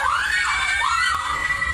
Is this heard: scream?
yes